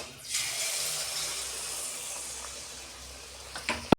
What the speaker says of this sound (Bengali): এইভাবে আমি সব মালপোয়াগুলো ভেজে নেব